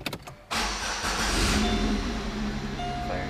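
Pontiac G6 engine cranks briefly and fires up, settling into a steady, loud idle hum close by, with no talking.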